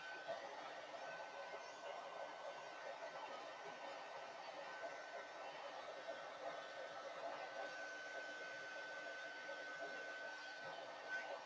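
A hair dryer blows steadily over a sheet of junk journal paper, a constant whirring airflow hum that runs unbroken the whole time at moderate, close range.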